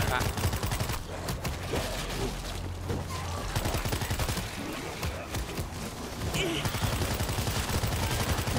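Rapid bursts of shotgun fire crackle in quick succession for several seconds, loud and dense, with voices faintly present underneath.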